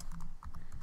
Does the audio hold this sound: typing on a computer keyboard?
yes